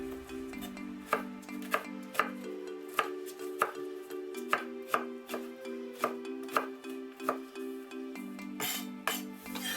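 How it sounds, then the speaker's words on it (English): A knife roughly chopping garlic on a cutting board, a series of sharp, evenly spaced thuds about twice a second, close and clear, with a faint tonal hum underneath and no voices. "Then roughly chop up some garlic."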